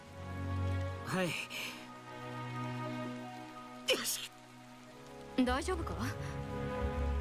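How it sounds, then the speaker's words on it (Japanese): Steady rain falls throughout as a soft, even hiss beneath two voices talking in an anime scene. "雨が降ってきたな。"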